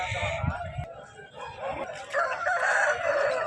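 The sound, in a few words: native rooster crowing at Nallapadu chicken market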